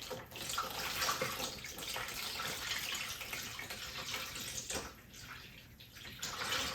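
Warm homemade ballistic gel is poured slowly into a mold, making a continuous liquid splashing and gushing stream that dips briefly near the end before picking up again.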